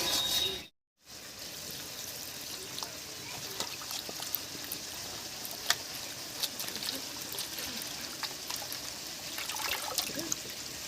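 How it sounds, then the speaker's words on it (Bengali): Pumpkin stalks being rinsed under running water in a village kitchen, a steady trickling and splashing stream that runs nearly the whole time after a brief silent gap near the start. "আর এই ফাঁকে আমি মিষ্টি কুমড়ো ডাটাটা ধুয়ে নিচ্ছি"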